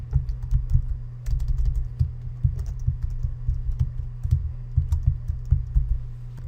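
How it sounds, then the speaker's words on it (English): Login credentials are typed on a computer keyboard, a close, quick and irregular run of key clicks lasting the whole stretch. "I'm asked to enter a username and password"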